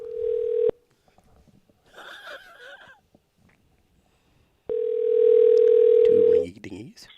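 A steady telephone dial tone sounds, breaks off for a stretch of faint talking, then returns loud and unbroken before cutting off into a voice.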